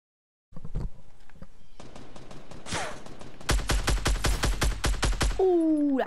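Gunfire crackles in a Fortnite Battle Royale match at Tilted Towers: sharp, sporadic shots, then a rapid, loud string of rhythmic reports close by.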